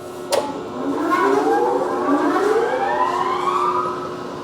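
An Erco stretcher shrinker sheet-metal machine is switched on and revs up to high speed, its motor whine rising steadily in pitch after a sharp click, loud and close with no talking.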